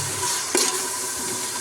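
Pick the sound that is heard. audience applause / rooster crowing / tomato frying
tomato frying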